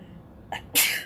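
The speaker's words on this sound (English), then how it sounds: "I'm going to sneeze" A single sharp sneeze, preceded by a quick breathy intake, close and fairly loud.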